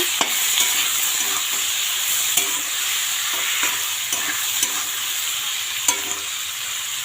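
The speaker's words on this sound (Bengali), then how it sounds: "তো এখন এটা একটু নাড়িয়ে চাড়িয়ে ঢাকা দিয়ে দেব।" A homemade jackfruit curry with salt and turmeric is stirred in a pot, the spoon scraping and knocking against the metal every half second or so over a steady frying sizzle; close and fairly loud, no voices.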